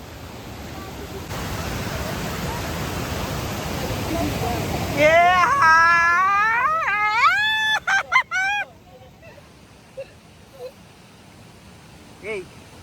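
Rushing water roars from the Abhimata waterfall as a loud, steady wash for several seconds, then a high, wavering crying voice rises over it before the sound drops away.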